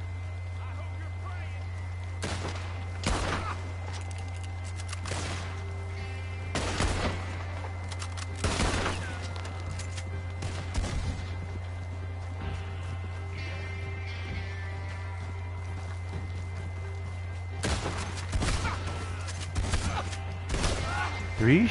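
Shotgun blasts in Red Dead Redemption 2 ring out as several sharp, loud booms in scattered clusters, with a steady low hum of game ambience underneath and someone talking at times.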